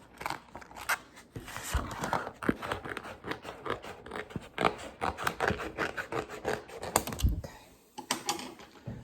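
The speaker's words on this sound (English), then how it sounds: "So I'm just gonna cut that off and save it for later." Scissors snip through leftover vinyl trimmed from a Cricut t-shirt design: a close, busy run of quick crisp cuts and papery rustles, with no speech.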